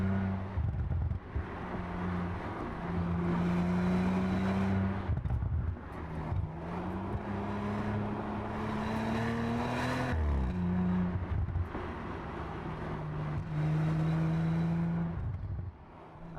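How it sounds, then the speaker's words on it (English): Audi RS5 Sportback on the move, its turbocharged engine rising and falling in pitch as the turbos spool up through several pulls and shifts, loud and close with a steady whirring drone and no talk. "Hear those turbos spool up."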